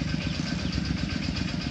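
Farm tractor engine running steadily at idle, a continuous low mechanical rumble with a throbbing beat, close and moderately loud, with no talk.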